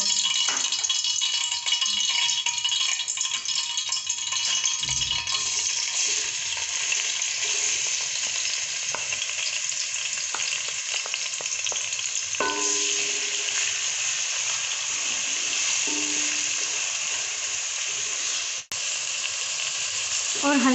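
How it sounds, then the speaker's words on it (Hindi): Onions frying in hot cooking oil in a pot, a continuous close sizzle with occasional stirring rattles and a brief clunk, no talk. "एक पतीले में कुकिंग ऑयल को डालकर हम गरम करेंगे और साथ ही प्याज शामिल करेंगे।"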